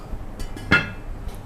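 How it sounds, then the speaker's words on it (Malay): A metal lid set onto a wok during home cooking of a spiced chicken dish, giving one short clinking clatter mid-clip amid quiet kitchen background and a few faint taps. "Kita tutup kuali dulu."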